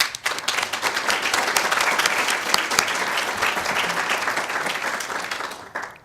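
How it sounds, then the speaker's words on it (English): A luncheon crowd at a Schenectady fair housing event applauds the mayor and city staff, a dense, steady round of many clapping hands that swells quickly, holds for several seconds and fades near the end. "To you, to your commissioners, to your staff, we offer them a round of applause."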